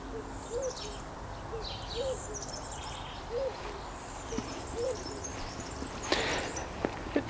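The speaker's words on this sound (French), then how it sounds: "On va écouter les oiseaux plutôt." Low, repeated hooting calls come at a steady rhythm alongside higher chirps from other birds, an outdoor chorus at moderate distance.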